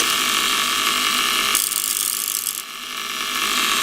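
An Elektronik Kaltetechnic und Hochspannung violet ray machine runs noisily with a steady harsh buzzing hiss that shifts in tone twice, loud and alone with no voices.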